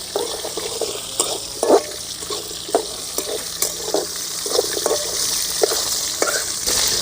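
Five cleaned dried red chilies fry in a pan of oil for papaya chutney, a steady close sizzle broken by regular scraping stir strokes, with no talking.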